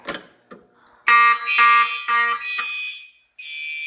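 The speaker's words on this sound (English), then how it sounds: "Let's pull the fire alarm." A loud basement fire alarm system blares in a series of harsh, pulsing horn blasts, a pause, then a steady continuous tone nearby.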